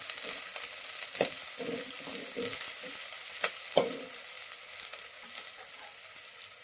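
Two medium chopped onions frying in oil in a pan for a Shimla mirchi masala curry, a close, steady hiss and sizzle broken by occasional stirring scrapes, with no talking.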